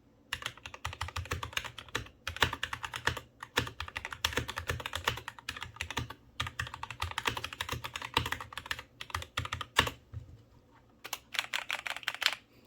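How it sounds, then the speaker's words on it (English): Fast, clicky keystrokes on a mechanical keyboard, typed in bursts with short pauses, close and crisp with no talking. "pretty nice sounding keyboard, wireless, really like it"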